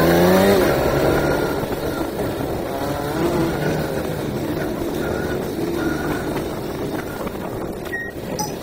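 Off-road vehicle crawling slowly along a rough trail, its engine holding a steady low rumble with small shifts in pitch, close and continuous throughout.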